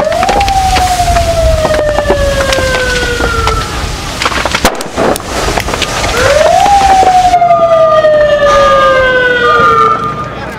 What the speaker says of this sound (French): Des ambulances arrivent